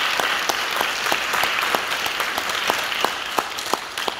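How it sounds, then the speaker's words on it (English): Audience at a high school NJROTC change of command and award ceremony applauding, steady dense clapping with a few sharper individual claps standing out, continuous for the whole stretch, no voices. "I'd like a round of applause just for you."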